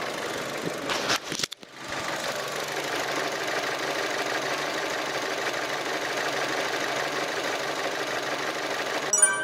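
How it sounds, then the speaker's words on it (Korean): A Chevrolet Lacetti Premiere car engine idles steadily with a low, even hum and faint ticking, preceded by a brief clunk like a door or hood closing. "라스티 프리미어 엔진 소음도 확인해 보도록 하겠습니다"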